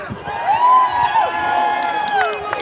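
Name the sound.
rally crowd cheering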